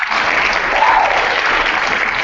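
A studio crowd applauds a guest's introduction with dense, steady clapping throughout, fairly loud and close, with a brief whoop rising out of it partway through.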